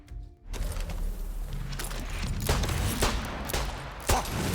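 Rifle fire in the video game Far Cry 6 from a weapon like an M1 Garand: several loud, spaced single shots ringing over continuous rumbling game noise, with no talking.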